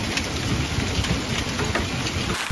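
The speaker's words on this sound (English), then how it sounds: "heavy thunderstorms fell on Wednesday night and on Thursday morning." Heavy thunderstorm with dense, steady rain pouring down and a low thunder rumble beneath it, loud and continuous with no voices.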